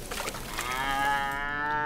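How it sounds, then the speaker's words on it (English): Cows in the strategy game Tenshu General give a loud, drawn-out moo that swells and holds steady over soft background game noise, with no talking. "Those moo cows are going to come out really loud on the video."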